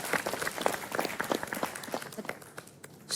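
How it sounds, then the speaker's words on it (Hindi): Applause from a small group for contestants on a competitive reality show, scattered claps fairly close, uneven and thinning toward the end. "सबके लिए दिल से तालियां भाई, सबके लिए।"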